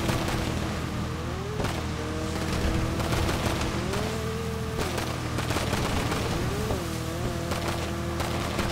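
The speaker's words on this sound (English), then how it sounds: "I hate this machine pistol." Machine pistol gunfire in a video game, dense rapid bursts of shots running steadily and loud alongside a revving engine-like whine.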